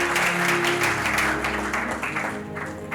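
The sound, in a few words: applause in church praising God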